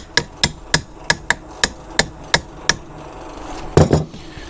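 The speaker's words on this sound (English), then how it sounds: "Use our hammer." Sharp metal-on-metal hammer blows wedge a small part into a finish mower receiver, about nine evenly spaced, ringing strikes followed by a short clattering double knock.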